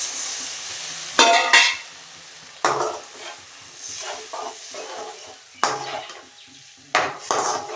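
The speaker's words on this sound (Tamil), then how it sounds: "இப்போ புளி தண்ணி ஊற்றிக்கலாம்" Tamarind water hits a hot oiled pan and sizzles while a utensil stirs and scrapes against the metal, with several louder clattering strokes over a steady frying hiss, cooking eggplant thokku.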